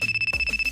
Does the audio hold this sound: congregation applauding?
no